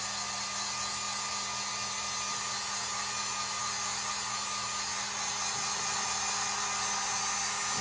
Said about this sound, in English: So I'm just using my heat gun.